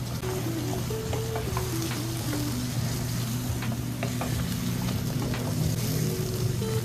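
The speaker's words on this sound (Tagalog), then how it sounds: "Then, haluin natin ng marahan kasi baka tayo ay matalsikan." Chicken adobo, just splashed with vinegar, sizzling in a pan while being stirred gently, a close, steady fry with scraping strokes of the utensil over a low background hum.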